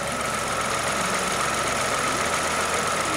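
A used Kia All New Morning sits idling, its engine giving a steady, even, close-up hum and rumble that holds unchanged for the whole stretch, with no talking.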